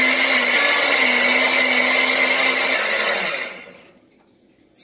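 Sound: blender blending enchilada sauce

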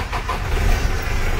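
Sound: diesel car engine starting

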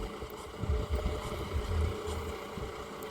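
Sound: tractor ploughing deep in a banana field

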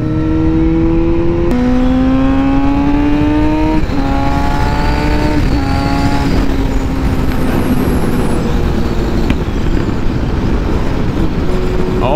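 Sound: BMW S1000RR motorcycle accelerating

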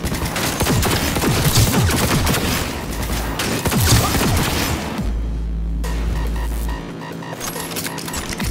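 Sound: gunfire in video game Cyberpunk 2077

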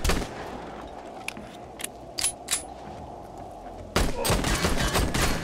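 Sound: gunfire in the video game 7 Days to Die

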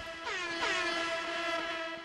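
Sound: air horn honking in the video game Ravenfield

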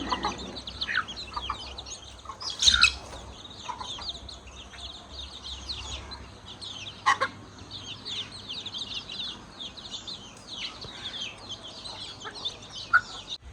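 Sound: chickens clucking while being fed

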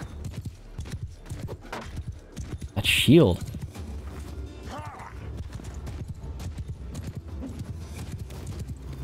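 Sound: horse hooves galloping in Mount & Blade II: Bannerlord video game

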